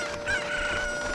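A chicken clucks once in the video game Ocarina of Time, a short, fairly close squawking call over a steady game background hum, with no one talking.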